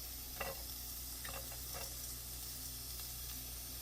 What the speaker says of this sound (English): let me fry my spinach up